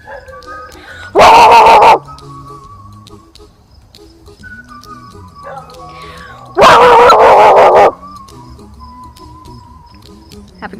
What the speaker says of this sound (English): We're going to ignore the dog.